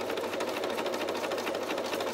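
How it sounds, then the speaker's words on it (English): A sewing machine runs steadily as it stitches lace onto fabric, a continuous close whirring hum with a fast, even needle rhythm and no voices over it. "Here I am on my sewing machine, and I'm trying to make it"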